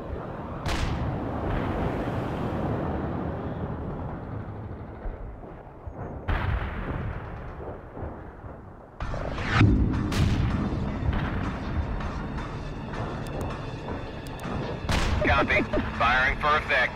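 Heavy artillery barrage in the World in Conflict video game, repeated deep booming shell impacts and explosions at irregular intervals, near and loud, with radio voices talking over parts of it.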